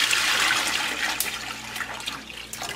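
Milk poured from a container into a pot for making fresh cheese at home, a steady rushing liquid stream that gradually thins toward the end, close and alone.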